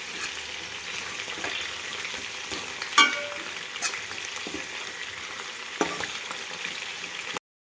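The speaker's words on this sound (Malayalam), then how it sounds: "കുറച്ചും കൂടി ഞാൻ അത് വാട്ടാൻ വേണ്ടിയിട്ട് ഞാൻ വേറൊരു ചട്ടിയിലോട്ട് ഇട്ടിട്ട്" Sliced onions for samosa filling sizzle and fry in a pan, a steady close hiss that runs the whole time, with a few clinks of a stirring spoon against the pan.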